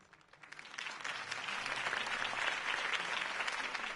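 Crowd applause in the Batman Telltale game after a Harvey Dent campaign speech, dense steady clapping that swells from quiet to full and holds, moderately distant.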